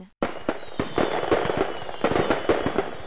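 Synthesized fireworks play as a reward in a Windows Me era children's learning game: a run of crackling bursts and pops, loud and close, following one another steadily for about three seconds with no talk.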